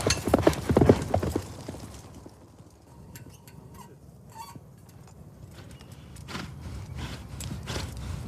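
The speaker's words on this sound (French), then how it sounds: "Les cavaliers doivent galoper sur une piste longue de plus de 200 mètres" Horses gallop along a long yabusame archery track, hooves pounding loud and close at first, fading to a quieter stretch, then drumming again nearer toward the end.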